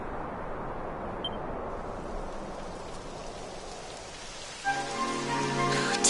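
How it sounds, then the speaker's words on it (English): Steady light rain hisses in a Dragon Quest XI game scene, a soft continuous wash that gives way near the end to a brighter musical tone layered over it. "It would have to go and start raining, wouldn't it?"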